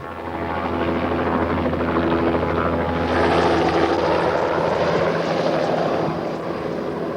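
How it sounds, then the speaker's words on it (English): A helicopter used as a film camera platform drones loudly and steadily overhead, its rotor hum swelling slightly midway before easing off again. "The helicopter is being used as a camera platform"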